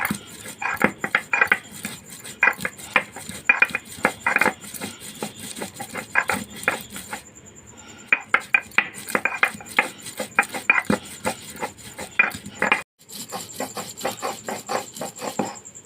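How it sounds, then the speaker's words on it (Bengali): Jackfruit seeds are ground by hand into a paste, giving a steady run of rhythmic scraping and rasping strokes, close and moderately loud, with two brief pauses. "এইভাবে আমি কাঁঠাল বীজগুলোকে বেটে নেবো ভালো করে।"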